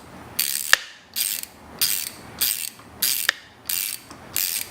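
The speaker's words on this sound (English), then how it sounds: "take your same tool, flip it the other way, set it down, and slowly tighten it." A ratchet tool clicks as it tightens on a Yamaha YZ250F motorcycle, in seven short, evenly spaced bursts of close, crisp clicking.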